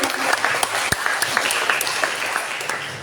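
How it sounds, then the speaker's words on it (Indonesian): Enthusiastic applause from a seminar audience fills the room, a dense steady wash of clapping with a few sharper nearby claps, sustained and even throughout. "Tepuk tangan yang meriah untuk beliau."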